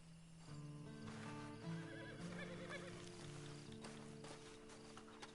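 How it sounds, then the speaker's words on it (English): A horse neighs and whinnies in a wavering, drawn-out call amid light hoof clip-clops, fairly quiet and somewhat distant, with no clear talking over it. "And you better get on this horse."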